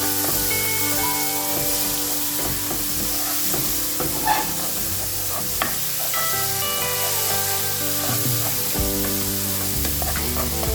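Jackfruit pieces cook in sizzling latik coconut caramel, a steady close frying hiss with bubbling, occasional stirring clatter and faint tonal background music throughout.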